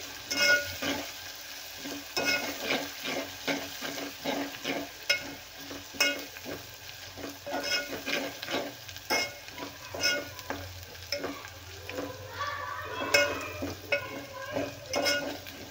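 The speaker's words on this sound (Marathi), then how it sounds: "आणि हे पण तेलामध्ये छान परतून घेते, म्हणजे याचा कच्चेपणा जाईपर्यंत आपल्याला तेलात परतून घ्यायचा आहे।" Ginger-garlic paste sautéing in oil while being stirred for a vegetable curry, a steady close sizzle broken by repeated scraping stirs through the pan, with no voices.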